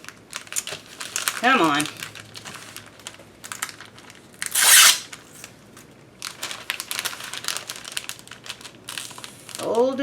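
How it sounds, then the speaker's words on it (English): Packaging material is folded around a parcel, giving close crinkling and rustling in uneven bursts with a few sharp crackles. A person speaks briefly partway through. "I'm going to fold it over here"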